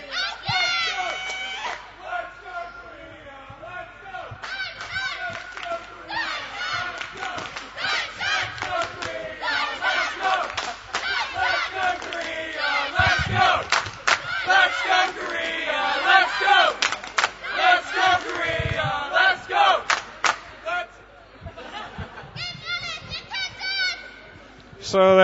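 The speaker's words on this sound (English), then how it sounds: "So there is a little cheering competition here between Korea and Germany" Supporters of the Korean and German teams cheer and chant against each other at the World Junior B Curling Championships, a loud sustained crowd of rhythmic shouts and voices over a commentator talking.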